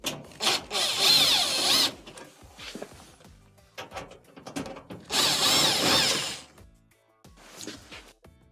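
Power drill backing Phillips screws out of a dryer panel, two loud whirring bursts with brief gaps between them, plus clicks and small rattles from handling.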